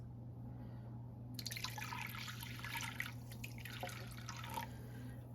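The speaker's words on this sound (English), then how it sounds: "you're going to go ahead and pour you a cup of chicken broth in the bottom of this." Chicken broth poured into the bottom of a slow cooker, a steady close trickle and splash of liquid running for several seconds over a low constant hum.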